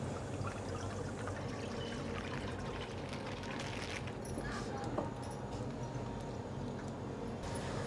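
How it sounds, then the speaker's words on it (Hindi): Milk poured into a pan on a gas stove for kheer: a steady, soft, continuous pouring and trickling runs for several seconds over a low background hum. "तो दूध को डाल देंगे पैन में।"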